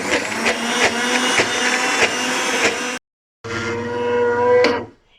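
A mixer grinder blends lentils for dahi bhalla with a loud, steady whirring motor, cutting off for a short pause before a second burst that winds down at the end.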